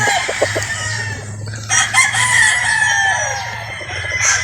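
A gamefowl rooster, a sweater Boston broad stag, crows loudly and near, a drawn-out cock-a-doodle-doo with a few clucks around it, over a steady low hum.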